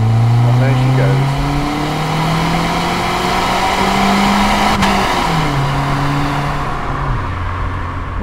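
Saab 900 Turbo 16 S four-cylinder engine revving up and dropping back, its pitch climbing and falling through several surges with a rough, strained note; loud and close throughout, with no voices.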